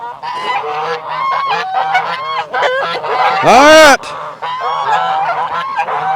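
Geese honking loudly on a farm, a flock of close, overlapping nasal calls in rapid bursts, with one especially loud squawk in the middle and a brief spoken word.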